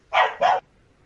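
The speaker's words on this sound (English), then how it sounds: "I think he's under attack from a dog." A dog gives two quick, sharp barks in a row, moderately close, then falls silent, with no voices over them.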